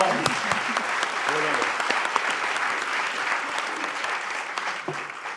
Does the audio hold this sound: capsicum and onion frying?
no